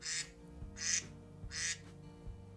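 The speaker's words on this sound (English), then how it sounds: "these are really your old school, you know, iPhone 3 level ones like the quacking duck" The classic quacking duck iPhone ringtone plays three short, nasal quacks in an even rhythm, clear and close with a brief gap between each, and nothing else is heard around them.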